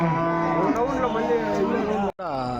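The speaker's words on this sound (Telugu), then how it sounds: "జెర్సీ ఆవు దూడ అయితే ఉన్నాయి" A cow at the Palamaner cattle market, where HF and Jersey dairy cows are sold, moos loudly and close by in a long, drawn-out low call, breaks off briefly, then starts another moo.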